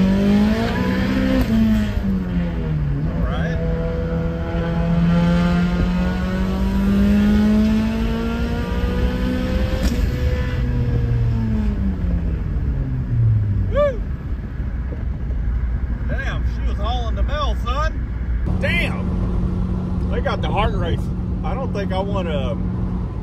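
Turbocharged Chevrolet Cruze tuned with a FuelTech FT550 pulling hard on the street, engine note climbing steadily through the gears with shifts and a longer sweep, then easing off near the end, loud and continuous with no talk.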